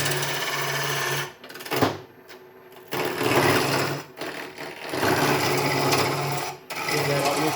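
A roughing gouge cuts a spinning wooden top blank on a lathe. A loud, continuous rasping whir is broken by short pauses as the tool lifts off and bites again, close up.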